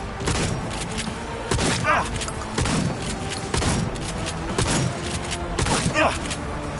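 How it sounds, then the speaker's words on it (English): Rapid gunfire bursts in the video game Cyberpunk, repeated volleys of close, loud shots in an intense firefight, coming in uneven clusters across the whole stretch. "They're opening fire!"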